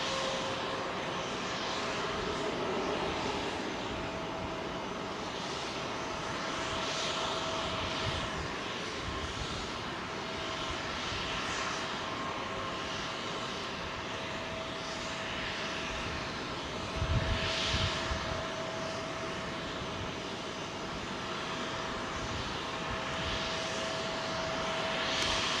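A Boeing 747 at Heathrow Airport holds a sustained engine run-up, a distant steady roar with a faint whine over open-air background, loudness nearly constant for the whole stretch with a short thump midway.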